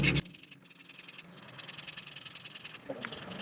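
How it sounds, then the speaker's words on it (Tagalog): A file rasps along the metal shaft of an 18-inch Hanabishi oscillating stand fan, a steady close scraping hiss running for a few seconds after a brief louder knock at the start. "lihain muna natin itong kanyang shafting bago natin hugutin"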